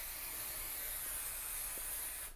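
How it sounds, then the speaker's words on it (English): A continuous, close hiss of a can of temporary spray adhesive spraying steadily without pause, ending abruptly. "You're going to shake,"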